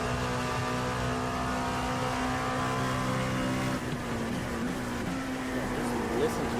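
A 4.2-litre V8 in an LMP2 race car at night at Road America in a sim racing game holds a steady high-revving whine with a firm harmonic drone, briefly dipping as it shifts, under faint background speech.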